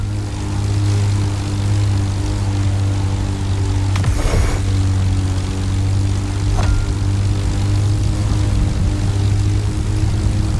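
A propeller plane engine in The Crew Motorfest drones loud and steady throughout, a constant buzzing hum with brief whooshing swells of passing air.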